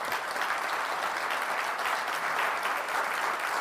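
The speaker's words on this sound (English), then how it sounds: "Let's give him another round of applause." Steady, full applause from an audience at a whistling talk, a continuous wash of clapping with no voices on top.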